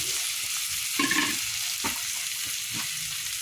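Bitter gourd (ampalaya) sautéing in a pan, a steady bright sizzle with occasional scraping stirs from a utensil, close and continuous with no talking.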